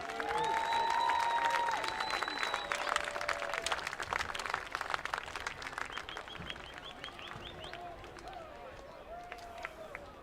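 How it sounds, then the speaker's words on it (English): Crowd applause at a high school football senior night in a stadium, honoring cheer and football seniors: steady dense clapping for about ten seconds, moderately distant, with scattered chatter and a voice briefly heard over it. "Let's have another round of applause for our cheer and football seniors."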